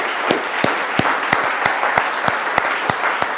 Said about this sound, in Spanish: Denle un aplauso, Señor, por favor.